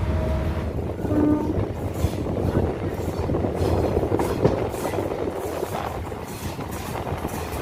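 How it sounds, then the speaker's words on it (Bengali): A MEMU special train on the Katwa to Ahmedpur line rolls steadily through Birbhum district, its loud continuous rumble and rattle of wagons carrying throughout, with voices talking underneath. "তো বন্ধুরা ট্রেন আমাদের চলে এসেছে বীরভূম জেলার কিন্নাহারে"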